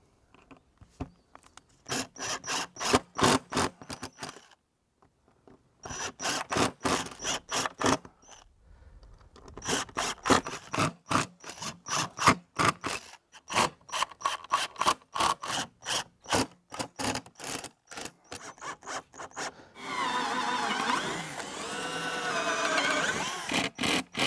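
Screws driven into wooden pieces of an outdoor wine caddy, bursts of rapid ratcheting drill whir separated by short pauses, close and repeated, ending in a longer continuous grinding stretch.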